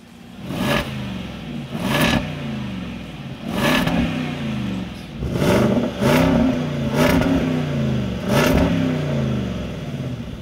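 A Land Rover Defender V8 engine revs repeatedly in sharp bursts, about seven throttle blips with a deep burbling idle between them, loud and close, no voices.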